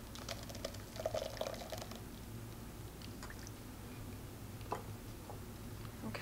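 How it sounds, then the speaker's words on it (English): Homemade coconut milk poured onto cheesecloth lining a strainer, a soft steady trickle and splash with a few faint clicks over quiet room noise. "I'm gonna take my beverage here and just pour right on top of the cheesecloth"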